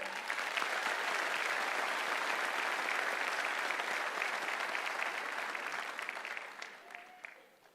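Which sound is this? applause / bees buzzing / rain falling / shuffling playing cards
applause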